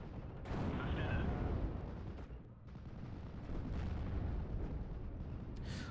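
Rumbling airstrike explosions in the WWII strategy game Steel Division: Normandy 44, a dense, low roar of blasts and booms that runs almost continuously, with a voice talking underneath.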